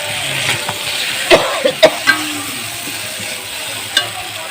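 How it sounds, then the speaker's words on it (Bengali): Spice masala frying in a pan while being stirred, a soft steady sizzle punctuated by a few sharp scraping clicks of the spoon against the pan, close up and without talk. "একটু মশলাটা ভালো করে কষাই"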